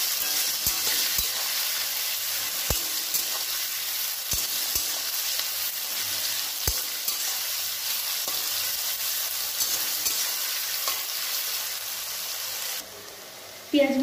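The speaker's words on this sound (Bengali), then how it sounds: "পেঁয়াজগুলো একটু লাল লাল করে ভেজে নেব" Chopped onions frying in a pan for Bengali aloo dum, a continuous close sizzle broken by sharp clicks and scrapes of stirring, ending with a brief louder knock.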